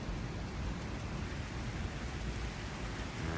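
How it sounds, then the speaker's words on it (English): Steady rain hisses outdoors at night with a low rumble of thunder beneath it, faint and continuous with no voices. "Oh, there's some thunder, and there's some rain."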